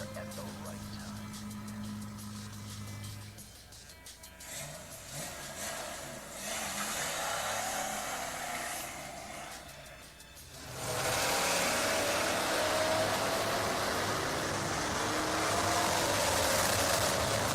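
A Ford Mustang II engine runs, first a low idle, then rising and falling revs before the car pulls away loudly and keeps driving close by. There is some faint talk early on.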